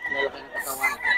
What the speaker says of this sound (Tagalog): Ganda ng linyada ng mga manok ni Boss Tony